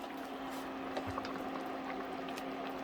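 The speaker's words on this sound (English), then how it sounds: "so that's come to the boil, as you can see" Beef stew at a rolling boil in a pot, a steady low bubbling and simmering texture with a faint background hum, close and fairly quiet, with no talking.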